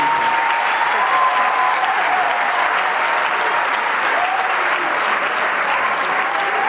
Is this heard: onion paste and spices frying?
no